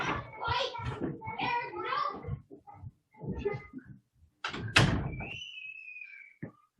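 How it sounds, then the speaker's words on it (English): Children at a Mother's Day family gathering make noise in the background, excited kids' voices chattering and shrieking in bursts, then a sharp thump and a long high squeal, all fairly near with short quiet gaps between. "sorry about the noise in the background of kids."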